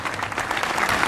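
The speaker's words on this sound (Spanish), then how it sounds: "El aplauso nuevamente." Crowd applause at an outdoor 25 de Mayo civic ceremony and parade, a steady, dense wash of clapping holding at an even level without pause.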